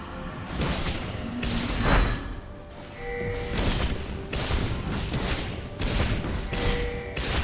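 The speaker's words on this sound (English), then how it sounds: "Blue team's turret has been destroyed." A turret being destroyed in a League of Legends match, heard as a loud, busy mix of impacts, booms and whooshes with bright tonal effects layered throughout.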